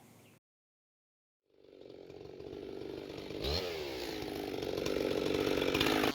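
After a moment of silence, a chainsaw engine starts and runs steadily during tuning, its buzzing whine growing louder and more intense.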